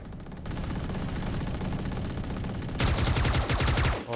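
Rapid automatic gunfire in the video game Valorant, a dense continuous burst that grows louder and harsher partway through, close and loud, with no talking.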